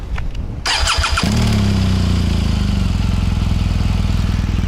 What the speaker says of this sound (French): On va écouter le moteur, le bicylindre Boxer, le Flat Twin